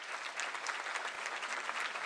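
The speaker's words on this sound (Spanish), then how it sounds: "con el aplauso de todas y todos ustedes, Juan Alberto Herrera González." Audience applause at a police recognition ceremony, a steady patter of many hands clapping at moderate distance, continuous and without voices.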